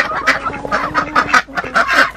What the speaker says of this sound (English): But chickens are doing good.